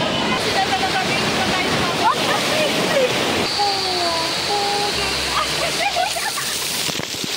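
Water from a waterfall pours and splashes onto riders on the Rio Grande Rapids raft ride at Enchanted Kingdom, a steady, close rush of falling water with excited voices and shouts over it.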